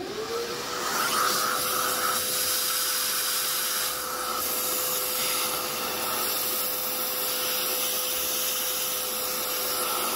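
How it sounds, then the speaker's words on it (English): A vacuum draws loose coffee grounds out of a Mythos Plus grinder during repair, giving a steady loud hiss and airy whoosh that runs continuously without pause. "And then we will vacuum all of our loose grounds out."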